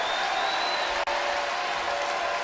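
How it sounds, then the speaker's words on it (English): A packed arena crowd at a women's college volleyball match between Purdue and Nebraska applauds and cheers after a point, a dense, sustained roar of clapping with a faint whistle-like tone in it. "Crowd gets antsy when the opponent scores 2 points in a row."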